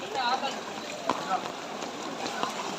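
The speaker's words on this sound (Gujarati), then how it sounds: "થોડોક ધીમો પડ્યો બાપા વરસાદ અત્યારે." Steady rain falls over floodwater in the Katargam area of Surat, a dense broadband hiss with scattered drop impacts, while voices talk over it.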